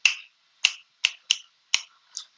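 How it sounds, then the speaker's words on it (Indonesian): Six crisp finger snaps come one at a time with short gaps of about half a second, sharp and close in an otherwise quiet room, with no voices during the snapping. "Nah, itu petik jari."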